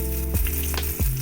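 Whole green cardamom, cinnamon, cloves and a dried red chilli hitting hot oil, giving a loud close sizzle with a few sharp crackles and pops, no talk.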